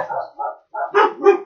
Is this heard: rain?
no